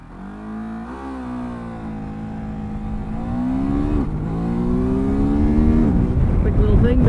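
Near and loud, a Ducati DesertX motorcycle accelerates across desert terrain. The engine note climbs in pitch, drops at each quick-shifter gear change and climbs again, growing louder throughout, with some voice mixed in.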